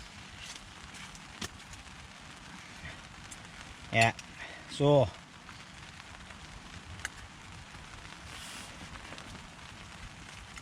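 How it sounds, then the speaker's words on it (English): Rain pattering steadily on a hot tent during wet winter camping in a stove hut, a soft continuous hiss with a few brief louder sounds nearby and someone speaking briefly. "so here's the rain on again"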